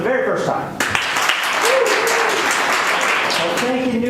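At a live comedy improv show, an audience breaks into sustained applause after a brief stretch of talk, the crowd clapping filling the room with voices still audible within it.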